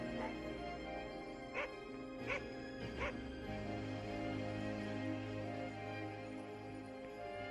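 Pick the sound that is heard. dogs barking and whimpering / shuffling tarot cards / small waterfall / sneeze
dogs barking and whimpering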